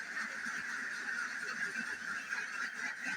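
Domestic ducks on a duck farm raise a steady, busy chorus of honking calls, a continuous flock noise with many overlapping voices throughout.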